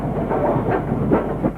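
Steam locomotive 34073 249 Squadron at Basingstoke rumbles by close and loud, a steady low roar with faint rhythmic clanking and no voices.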